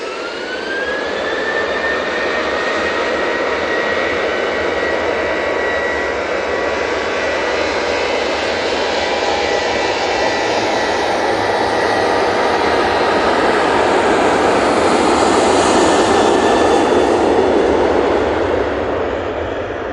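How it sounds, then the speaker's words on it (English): A TUI Boeing 737-800 jet departing Manchester Airport for Antalya, a loud sustained engine roar with a rising whine, building gradually and peaking late as it climbs out nearby, with no voices. "Next out, we have this TUI 737-800."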